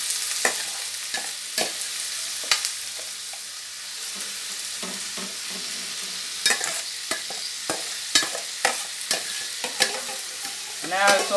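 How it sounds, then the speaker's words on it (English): Bell and sweet peppers, garlic, thyme and turmeric are stirred in a hot pot, a bright sizzle running throughout with repeated scraping and clinking of the spoon, close and steady. "I'm going to give them a stir to get the flavor to come up out of everything that I have in the pot here"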